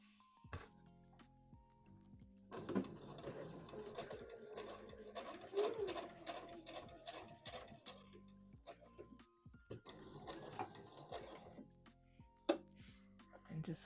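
A sewing machine stitches the seam of a Vogue V2000 wrap dress a quarter inch inside the seam allowance, running in a few close bursts separated by pauses, with a person talking quietly between runs.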